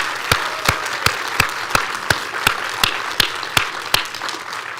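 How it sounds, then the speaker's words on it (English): An audience at a symposium on European tapestry applauds the speakers, sharp individual claps standing out at a fairly regular rhythm over a softer bed of clapping, heard without speech. "Can we have another round of applause for them?"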